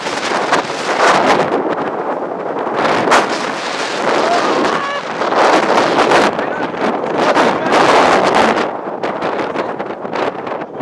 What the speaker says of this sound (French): Mais il y a un putain de vent de ouf.